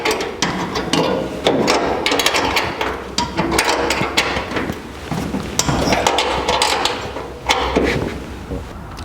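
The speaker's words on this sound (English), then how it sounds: "Put our nuts on the bolts coming through the firewall and tighten them up." Nuts tightened onto the steering column bolts through the firewall of a 1949 Chevrolet gasser, with dense metallic clanks, ratcheting and knocking that run continuously and close up, with no talk.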